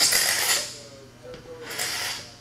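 Metal scraper pulled across a glued-up wooden cutting board, scraping off dried glue in two broad rasping strokes, close and fairly loud.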